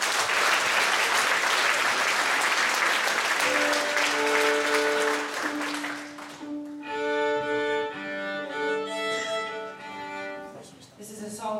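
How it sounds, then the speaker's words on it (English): Applause from a folk festival audience fills the first six seconds, loud and dense, then fades as a band begins playing, with sustained instrumental notes taking over. "Give a round of applause to Dave Warr at the back on the sound."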